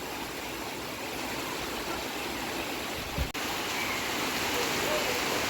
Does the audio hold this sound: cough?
no